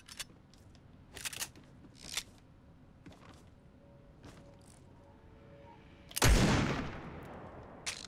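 Gunfire in a video game: a few faint, sparse shot cracks early on, then one loud, sharp blast with a decaying tail near the end, heard alone without talk.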